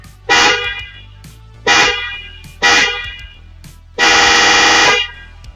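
A car's snail-type horn, newly installed with a relay, blares in three short honks followed by one longer held blast, loud and close.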